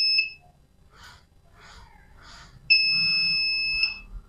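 A homemade PIR motion sensor anti-theft alarm buzzer sounds in a shrill electronic tone, one short burst and then a longer beep of over a second, with quiet clicks and movement in between.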